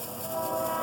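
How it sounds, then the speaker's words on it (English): A train rumbling past on tracks close to a woodland campfire, a steady, fairly faint low roar that builds slightly and carries on without a break. "As you can tell, we are not far from some train tracks."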